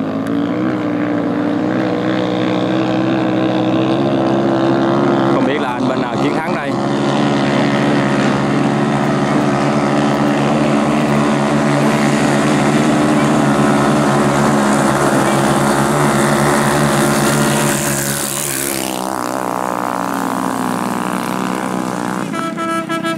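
Homemade vỏ lãi long-tail racing boat engines at a Mekong Delta race roar loudly and steadily with a droning, harmonic buzz. One boat surges and fades near the end while voices talk over the noise.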